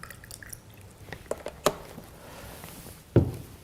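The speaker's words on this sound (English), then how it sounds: "we're going to soak our fruits and vegetables." Water splashing and dripping into a bowl as fruits and vegetables are soaked in 11.5 pH alkaline water, with scattered soft drips and a sharper splash near the end, fairly quiet and close, no talking.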